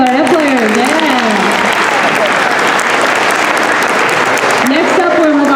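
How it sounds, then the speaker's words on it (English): Audience applause for the clarinet section at a school band concert, a steady dense clatter of many hands filling the room, with voices calling out and talking over it near the start and again at the end. "Big round of applause for our clarinet players"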